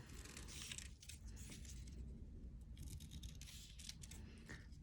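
Scissors cut out small paper hearts close by: faint, repeated snipping and scratchy rustling of paper in short bursts over a low background, with no talking.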